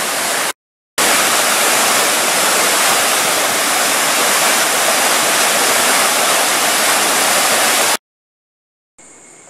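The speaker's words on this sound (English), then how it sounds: "I feel I'm in absolute heaven next to this magnificent waterfall" Seven Falls waterfall in Langkawi roars as a loud, steady broadband rush of falling water, broken by two short silent gaps, with a faint high tone at the very end.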